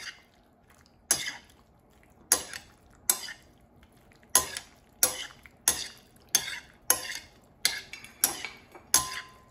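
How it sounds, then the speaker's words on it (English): Cooked tortellini tossed with egg in a bowl, producing a steady series of sharp utensil clinks and taps against the dish, roughly one per second, close up and clear with no talking. "just add the tortellini and toss it with the egg so it's coated"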